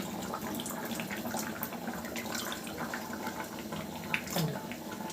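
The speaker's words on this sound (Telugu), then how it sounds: "గుజ్జుగా అయిపోయాక కొద్దిగా చింతపండు కూడా ఇంకా అట్లా పోసుకోవాలి" Tamarind water is poured into a simmering fish curry, a soft continuous trickle and splash over a low bubbling background, fairly faint and close.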